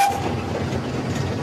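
A heritage steam train rolls along the Gloucestershire Warwickshire Railway, giving a steady, close rumble with a brief whistle-like tone at the very start and no talk.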